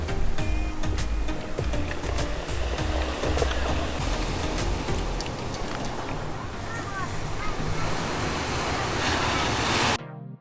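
Ocean waves wash against the rocky, stone-lined shore at Dulan in Taitung on an overcast day, a loud, continuous roar of surf mixed with wind buffeting the microphone.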